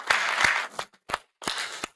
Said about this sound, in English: I think we should applaud Susan